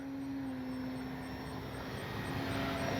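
A small radio-controlled fixed-wing model airplane pulls through a loop, its propeller engine giving a steady, moderately faint whine that holds evenly from start to finish with no talking.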